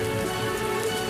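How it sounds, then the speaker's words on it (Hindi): Heavy rain pours down steadily and loudly over a farm field, a dense continuous hiss of drops beating on surfaces with no voices. "अचानक तेज बारिश शुरू हो गई।"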